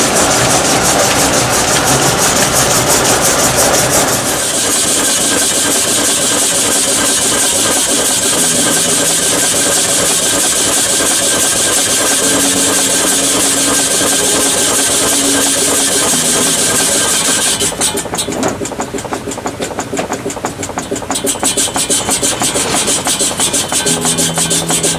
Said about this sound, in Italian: aggancio l'avanzamento e lì avanza il carrello da solo e comincia a segare